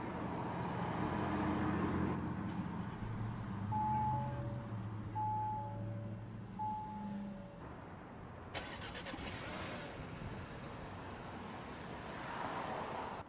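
A 2020 Audi Q5 Premium started by push button, a brief crank and catch followed by a low steady idle, fairly quiet with mechanical whirs and a click partway through.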